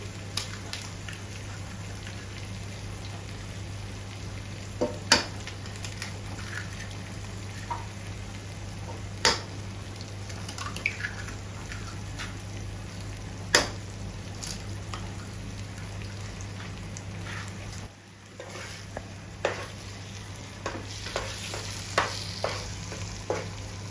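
Eggs fry and get stirred into a ready masala in a pan, meant for Karnataka-style egg fried rice without sauce. A steady low sizzle runs throughout with scattered clicks of the spoon, and there is no talk.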